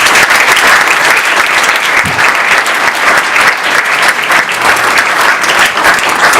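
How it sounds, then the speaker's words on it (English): Graduation ceremony audience at ESIS Florida gives the school staff loud, continuous applause, a thick roar of many clapping hands close by that never lets up. "the biggest applause we have to get today is for the staff"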